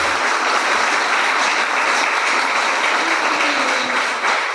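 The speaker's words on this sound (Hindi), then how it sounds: "जोरदार ताली बजाएंगे प्रभु के नाम पर" Loud, sustained applause from a worship gathering audience fills the whole stretch, dense and steady with no talk over it.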